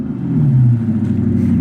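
Big V8 car engine rumbling deep and close through its exhaust, a steady low growl that swells slightly, with no voices.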